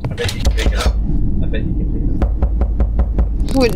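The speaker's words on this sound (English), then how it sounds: "Quit knocking on the door." Sharp knocks on a door in a locked-house video game, a burst of rapid raps followed by several spaced single knocks, close and loud, with a person talking over the start and end.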